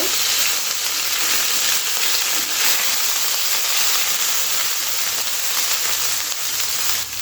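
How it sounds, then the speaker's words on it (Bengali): Ginger paste fries and sizzles in hot oil in a pan, a steady close hiss with faint scraping as it is stirred, continuing evenly throughout with no voices. "এরপরে দিয়ে দিচ্ছি আদা বাটা, এখন আমি নেড়ে করে নেব।"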